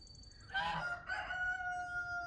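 Chickens and a rooster on a small farm with geese nearby, two close crowing calls with clucking, fairly loud and clear over a quiet outdoor background.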